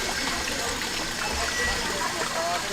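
Water trickles and splashes steadily down a small waterfall in a backyard pond, a soft continuous wash at moderate level with no talking.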